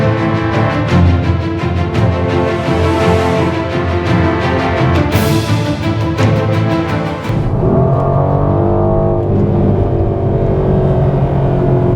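A Mercedes-AMG GLC 63S in race mode accelerates hard, its engine roaring loud and steady from inside the cabin, with a gear change partway through that drops the pitch before it climbs again.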